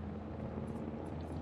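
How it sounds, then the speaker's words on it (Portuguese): A helicopter in the dinosaur park video game Jurassic World Evolution, giving a steady low rotor drone with a constant hum that stays fairly even and continuous throughout, with no talking. "Olha o som do helicóptero, que da hora!"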